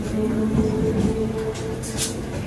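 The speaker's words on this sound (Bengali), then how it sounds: "ট্রেন চলে যাচ্ছে তো" A train rumbles along steadily in Kolkata with a low, continuous roar, a brief high hiss rising near the end.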